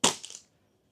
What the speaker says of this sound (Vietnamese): Đó là tiếng âm thanh của carbon của chiếc cần Tiếu Ngạo Giang Hồ.